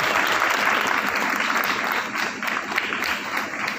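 Dense, steady applause from an audience at a foundation trust inauguration in Doriganj, a continuous wash of many hands clapping close by, with no talking over it.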